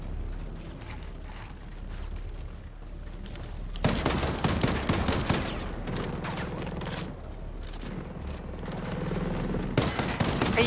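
Rapid video game gunfire from a shooter, with dense mechanical clattering bursts that grow louder and more continuous partway through, and only sparse pauses.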